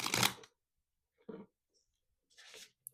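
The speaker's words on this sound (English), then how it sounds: "One more good shuffle." Tarot cards being shuffled in short, crisp riffling bursts, three separate quick flurries with quiet gaps between, close and fairly soft, with no talking.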